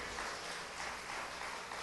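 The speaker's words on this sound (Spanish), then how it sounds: "Vamos a darle otro fuerte aplauso al que vive y reina por los siglos de los siglos" A church congregation at an evening worship service applauds in a steady, even burst of clapping that stays at a moderate, fairly distant level throughout.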